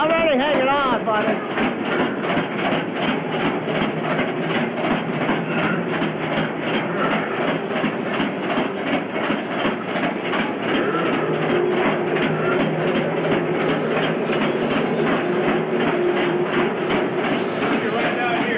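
A train with a locomotive runs on rails and climbs a hill, giving a continuous rumble with a rapid, regular clatter. The sound is close and sustained while voices talk over it.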